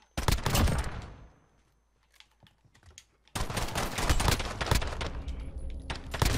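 Rapid bursts of automatic gunfire from a Call of Duty Modern Warfare gunfight on the Docks map, loud and close, with a short lull before sustained firing resumes to the end.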